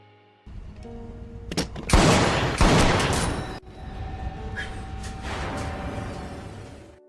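Gunshots in a film scene: loud, sharp bursts of firing with booming impacts, followed by a lingering echoing rumble that gradually fades.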